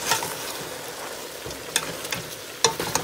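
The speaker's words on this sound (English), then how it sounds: "this is just my oxtail in my pot. And I'm just gonna go in and give it a spin" Oxtail being stirred in a hot pot for Jamaican-style oxtail, a steady sizzle underneath with a few sharp scraping clinks of the spoon against the pot.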